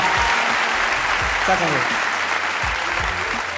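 An audience applauds throughout, a dense continuous patter of clapping at steady volume, with someone speaking briefly over it.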